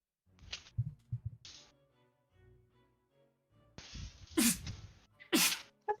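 Two sharp sneezes burst out near the end, loud and close, after a few quieter breathy sounds.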